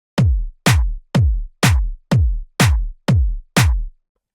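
A low, punchy electronic kick drum and layered clap strike together in a steady four-on-the-floor pulse, eight loud hits about half a second apart, each a deep booming thump topped by a bright crack, with no voices.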